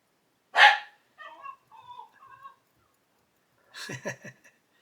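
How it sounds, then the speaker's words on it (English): A dog barks outdoors: one sharp bark, then a string of faint whimpering yips, and a final cluster of quick barks, heard at a distance with no speech. "There's a dog outside, I can hear there's somebody outside talking to their dog."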